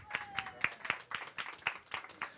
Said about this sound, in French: Applaudissements pour Nico.